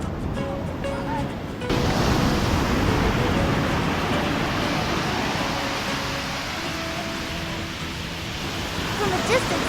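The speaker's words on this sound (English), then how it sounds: "From a distance, we saw a huge wave crashing on the beach." Huge waves crash onto Batu Bolong beach in Bali, a loud broadband roar of surf that surges in after a quieter start and churns continuously, heard from a short distance, with faint voices in the background.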